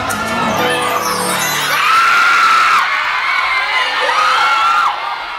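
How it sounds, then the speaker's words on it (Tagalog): Fans at a concert in Tarlac shriek and scream loudly and continuously, a packed crowd of high-pitched cheering voices rising and falling with sustained squeals. "Hindi naman nila binigo ang mga fans na walang humpay ang hiyawan at tilian"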